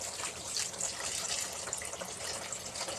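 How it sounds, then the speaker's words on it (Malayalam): Water pours steadily into a pan of Kerala-style fish curry mixture, a continuous close splashing rush with no talk. "ആവശ്യത്തിന് വെള്ളം ഒഴിച്ചു കൊടുക്കാം"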